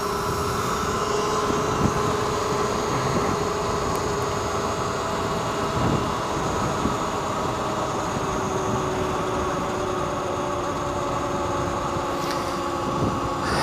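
Talaria R MX4 electric motorbike run at full throttle, a steady high motor whine with wind rush holding evenly throughout, close and fairly loud, no voices.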